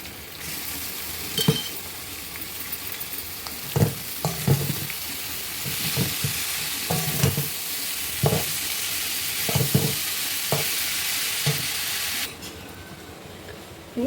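Fresh spinach is stir-fried in a hot pan, giving a loud, continuous sizzle with repeated scraping and clattering strokes from a spatula. The hiss drops away abruptly near the end.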